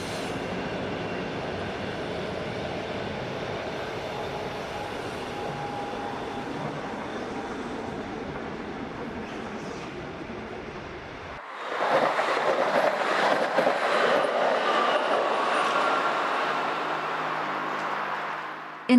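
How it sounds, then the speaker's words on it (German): A Rhaetian Railway freight train from Ilanz rumbles steadily with broad rail noise, growing louder and brighter partway through as it draws closer. "Man hört bereits den Güterzug aus Ilanz"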